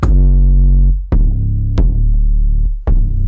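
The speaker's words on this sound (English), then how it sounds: "until you can get a nice 808 that sounds like this" Deep, booming 808 bass notes play in sequence, each sustained and heavy with a sharp attack, four notes shifting in pitch.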